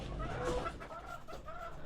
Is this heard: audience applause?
no